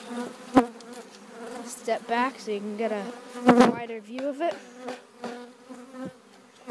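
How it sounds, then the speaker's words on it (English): Honey bees from a package being installed into a hive buzz around the beekeepers, a close, wavering drone under near continuous conversation between two men. "Some bees are on me."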